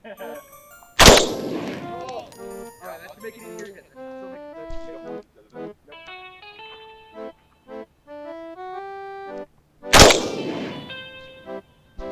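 Two sharp, loud gunshots ring out about nine seconds apart at an outdoor shooting session, with people talking between the blasts.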